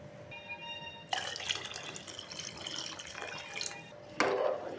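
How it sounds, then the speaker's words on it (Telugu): Water poured into a pot of dal khichdi in two bursts, a splashing, gurgling stream starting abruptly and filling the vessel, close by. "ఒకటికి మూడు గ్లాసుల చొప్పున వాటర్ పోసుకోవాలి"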